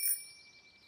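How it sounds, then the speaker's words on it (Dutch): A cartoon bicycle bell gives a single bright ding that rings clearly at first and then fades into a faint, lingering shimmer. "De fietsbel is ook erg belangrijk"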